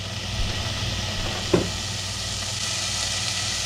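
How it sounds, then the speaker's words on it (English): Bacon sizzles in a pan as black-eyed peas and greens are prepared, a steady broadband frying hiss running throughout with a brief louder pop midway. "I can hear it sizzling, can't you?"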